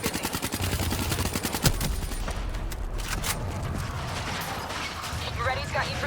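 Rapid gunfire bursts from a Black Ops 3 campaign mission, loud and continuous with sharp repeated reports over a dense battle din, while voices talk over the shooting.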